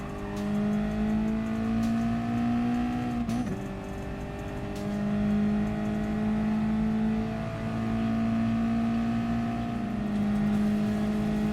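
Race car accelerating hard on a sprint track, a loud, steady engine drone with rising pitch, a brief dip near the middle as it lifts and then pulls again, close and continuous with no talk.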